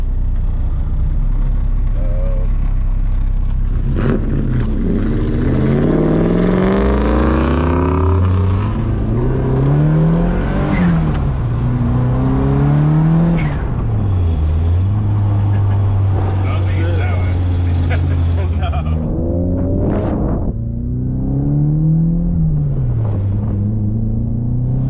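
A turbocharged M42-engined drift car revs and drifts, its loud engine note repeatedly climbing and falling in pitch through several sweeping rev cycles over about twenty-five seconds, with rumbling exhaust and a voice talking over part of it.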